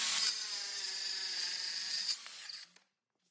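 Festool HKC 55 circular saw cutting through a workpiece along its guide track: a loud, steady high-pitched whine for about two seconds, then the motor winds down and stops, leaving silence.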